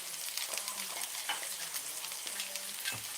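Onions frying in a cast iron pan give a steady, close hiss of sizzling with a few soft stirring scrapes and clinks along the way, and no one speaks.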